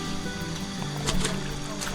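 A mountain river on Gunung Binaya rushes in a dense, continuous hiss and burble, close and fairly loud, with a few brief splashes on top.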